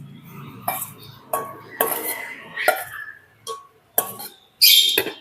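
Soft food for lovebirds being mixed in a dish with a utensil, giving a run of irregular clinks and scrapes of metal on the dish, close and fairly loud, with short gaps between strokes and no talking.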